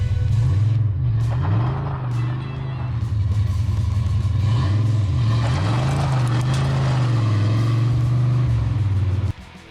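A Ford Ranger pickup accelerates hard while its rear tires lose traction, a loud, close engine drone that rises and falls in pitch as the wheels spin and the revs climb, then cuts off abruptly.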